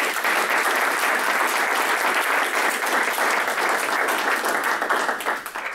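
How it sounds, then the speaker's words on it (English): Sustained applause from an audience at the close of a startup legal presentation, steady and dense for the whole stretch, with no voices over it. "Let's give them a big round of applause"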